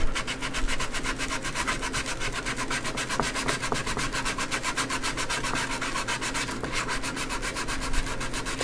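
Sandpaper rubs back and forth over a 3D-printed part in quick, steady strokes, a continuous close scratchy rasp with no talking.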